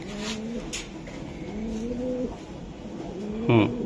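Repeated low cooing of racing pigeons, near and steady, with a short flutter of wings near the end; no talking.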